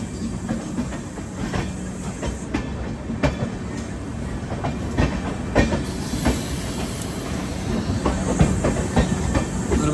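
The Amrit Bharat Express runs on a parallel track and slowly overtakes, giving a loud, continuous rumble with rhythmic clickety-clack wheel beats and a steady hiss, and no voices.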